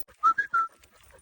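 A short three-note recall whistle for an Australian Shepherd during off-leash training, sharp and close, with the notes rising slightly, then quiet.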